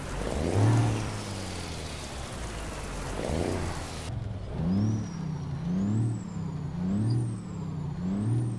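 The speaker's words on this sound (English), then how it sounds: "Nice turbo whistle." In a truck driving video game with rain falling, a new diesel truck's turbo whistles in a thin rising and falling tone over repeated low engine surges.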